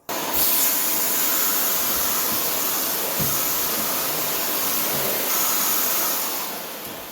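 A Miele C1 Classic canister vacuum cleaner runs steadily with a loud, close, broadband rushing hiss and a slight shift in pitch partway through, then fades slightly at the end.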